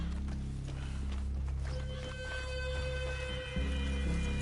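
Horses are brought to a halt and dismounted in Red Dead Redemption 2, with soft hoof clops and a horse's snort or whinny over a continuous low droning game soundscape.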